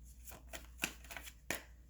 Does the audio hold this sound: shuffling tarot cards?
yes